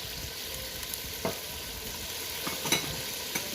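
Spices frying in a pot for aloo gosht crackle steadily under a few scattered stirring scrapes, close and fairly quiet, with no voices.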